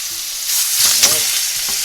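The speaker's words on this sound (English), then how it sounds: "Right in. Hear that sizzle?" Chicken pieces hitting a hot oiled pan in a home kitchen, a sudden bright sizzle that jumps up and holds as a steady hiss of frying, close and loud with no talking.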